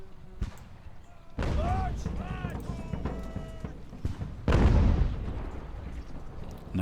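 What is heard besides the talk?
artillery batteries firing in Ultimate Admiral: Age of Sail video game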